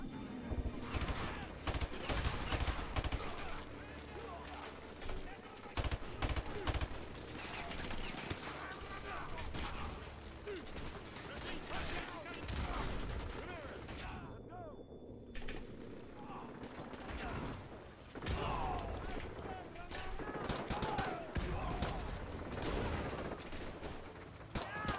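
Enemy gunfire in the MW2 campaign remaster, dense bursts of shots and rattling automatic fire crackling throughout at moderate level, with a player's voice talking over parts of it.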